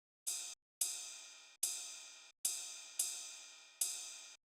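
A ride cymbal is struck six times in a loose rhythm, each hit bright and ringing with a shimmering decay until the next strike, clear and alone.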